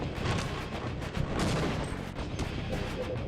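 Explosions and bursts of gunfire from the shooter game Half-Life 1 as an enemy spams grenades, a dense continuous barrage of booms and shots with no gaps, loud and close throughout.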